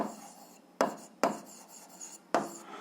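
Pen or pencil scratching across paper while an algebra exercise is written out, three firm rasping strokes with short pauses between, close and clear with no talking.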